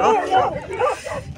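Dogs at a dog centre in Namche Bazaar, Nepal, give yips, whimpers and short barks close by, with people chattering in the background.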